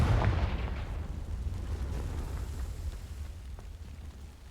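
A Confringo blasting spell explodes in the Hogwarts Legacy video game, setting dry vines alight: a loud, deep boom that hits at once, then a long rumbling decay that fades out, with no voices.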